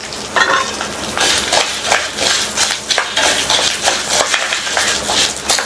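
Dal and halved dried red chillies roast in a hot pan, giving a loud continuous sizzle broken by repeated scraping and clinking of a spatula against the metal as they are stirred.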